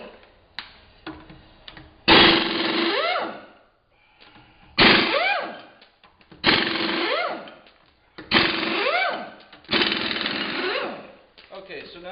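Snap-on air tools remove a car tire, likely on a Volkswagen Mk4 Jetta, firing five loud, close hammering bursts with short gaps between them, each ending in a falling whine and faint clicks.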